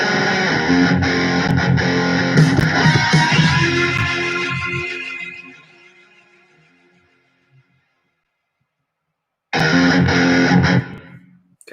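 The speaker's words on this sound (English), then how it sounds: "add a fade out, which is what I usually do." A distorted, effects-heavy music track plays loudly, then fades out gradually to silence, and a loud burst of the music returns near the end.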